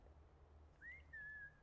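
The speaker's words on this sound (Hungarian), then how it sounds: "Dávid, egyet fütyülj, kérlek." A single short whistle in the Fortnite Prop Hunt video game, a faint rising then level tone lasting under a second over a low steady hum.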